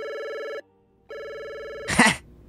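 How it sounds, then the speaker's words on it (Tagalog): A cellphone rings loudly and close by with two electronic bell-like bursts separated by a short pause, then a brief rustling clunk as it is handled. "Maya-maya ay bigla namang tumunog ang aking cellphone."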